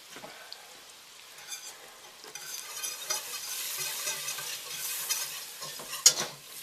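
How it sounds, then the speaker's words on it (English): Flour being stirred into pork green chili in a hot pot to build a roux, with a spoon scraping and stirring over a light sizzle, quiet at first and growing busier, ending on a sharper clack. "You turn the heat down a little bit and start mixing in my flour."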